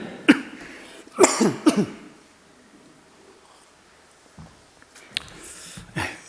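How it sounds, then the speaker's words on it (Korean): Several harsh coughs from a pastor during a church service, a single one, then a quick cluster of three, and two more after a quiet pause, close to the microphone. "이 날씨가 차가워지면서 제가 갑자기 또 기침이 나오네요"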